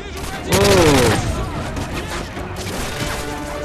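Call of Duty Modern Warfare 3 campaign firefight: a loud burst of rapid gunfire and a blast about half a second in, then a rumbling bed of distant shots and battle noise with a voice speaking.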